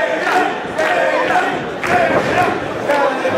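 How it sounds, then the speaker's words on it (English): A wrestling crowd in Brooklyn, New York cheers and yells in steady waves, loud and continuous with swelling bursts of shouting. "Love getting this crowd in Brooklyn, New York fired up."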